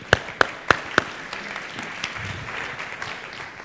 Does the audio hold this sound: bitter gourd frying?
no